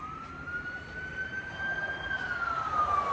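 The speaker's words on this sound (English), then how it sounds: "It's the ambulance coming. I'm gonna let it pass." An ambulance siren wails steadily at a moderate distance, its pitch rising slightly and then falling as the ambulance goes past.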